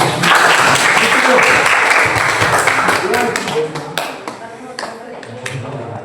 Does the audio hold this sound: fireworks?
no